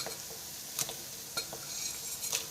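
Whole spices sizzling in hot oil in a home kitchen while being stirred, a steady quiet hiss with a few soft scrapes and clinks of the spoon against the pan.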